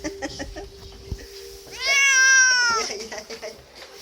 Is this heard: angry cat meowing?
yes